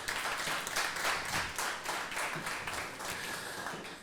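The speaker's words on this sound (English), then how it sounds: "You guys can give him a round of applause." An audience at a talk event applauds the venue staff, fairly faint and distant, with a steady patter of many hands clapping throughout.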